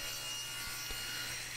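A saw makes a blind cut through workbench lumber held with a clamped backup scrap piece. It gives a steady, close, whirring rasp with faint low thumps under it.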